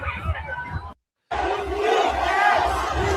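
A large crowd of Iranian people cheers and shouts loudly, breaking off for a moment before surging back in a dense, sustained roar of voices.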